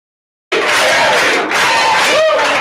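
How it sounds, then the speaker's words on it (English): A Jerry Springer studio audience erupts into loud, continuous cheering and whooping that starts abruptly and stays dense and roaring throughout. "They're cheering for this dude."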